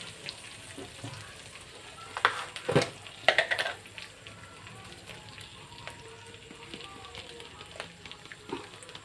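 Spices, asafoetida and turmeric sizzle in hot oil for a biuli dal tempering, a steady close frying hiss broken by a few sharp crackles and stirring clinks, with no talking.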